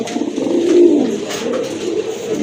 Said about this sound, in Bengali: খুবই সুন্দর একটা ড্যানিশের নর, একদম টকটকে লাল গিয়ারের কবুতর, আর অনেক মোটা ঠোঁটের কবুতর